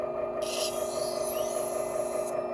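A Creely blade is being sharpened on a professional Tormek-style wet grinding wheel, giving a continuous rubbing, grinding hum with a steady tone and a brief higher scrape near the start.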